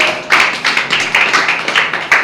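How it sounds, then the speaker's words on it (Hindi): A church congregation claps in a steady, fast rhythm during a Sunday sermon, about nine loud, evenly spaced claps, with no talking over them. "उसके लिए जोरदार ताली मारो।"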